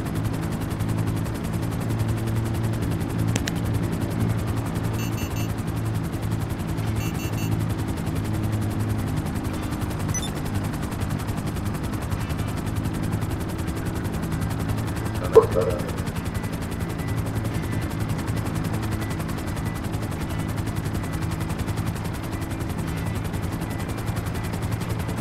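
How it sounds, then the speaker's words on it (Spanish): Enemy helicopter firing in Grand Theft Auto V: a steady low rotor drone fills the clip, with scattered gunfire bursts and one sharp shot near the middle. "el helicóptero suyo que dispara."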